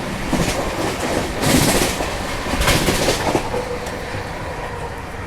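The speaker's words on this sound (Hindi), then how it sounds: "तांडव करके निकली दुरंतो एक्सप्रेस।" Duronto Express passenger train racing at high speed, overtaking near Bhusawal at about 130 km/h, with a loud continuous rushing roar and rhythmic clatter of wheels over rail joints that swells in bursts, heard up close with no talk.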